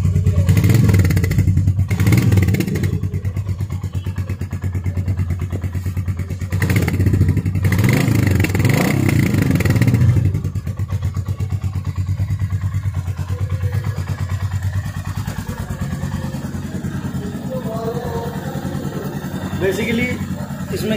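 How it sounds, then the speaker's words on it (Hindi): A Royal Enfield Meteor 350 motorcycle idles nearby with a steady low thump from its engine and exhaust, rising in a couple of short revs, while someone talks over it. "साउंड क्वालिटी है एग्जॉस्ट की"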